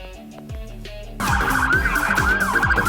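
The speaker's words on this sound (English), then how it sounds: "The Peruvian police car is a versatile patrol vehicle equipped with sirens, flashing red and blue lights, and law enforcement tools." A Peruvian police car siren wails loudly and close, starting with a lower tone and then jumping to a sharper, rising and falling electronic sweep.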